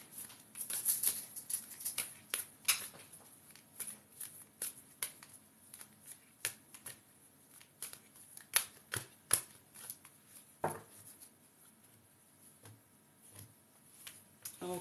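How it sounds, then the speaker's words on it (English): Tarot cards being shuffled by hand, quick crisp riffles and flutters in bursts, close and fairly quiet, with no talking. "let's shuffle these cards and go for a moon card."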